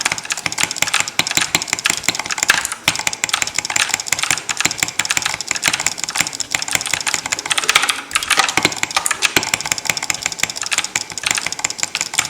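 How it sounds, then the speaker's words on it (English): Rapid, loud mouse clicking during Minecraft PvP on the MineMen Club server, with dense, fast bursts of clicks continuing almost nonstop and brief pauses, heard close up without any talk. "hopefully you guys can hear my clicks though."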